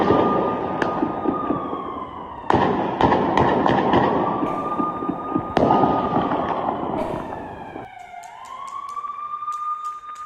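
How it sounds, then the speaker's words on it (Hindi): Sharp gunshot cracks from an exchange of fire between the Israeli army and Hamas supporters in Jenin ring out at irregular intervals, loud and echoing over a steady wailing siren that rises and falls, with a final burst of rapid shots near the end. "आप आवाज सुन सकते हैं गोलियों की"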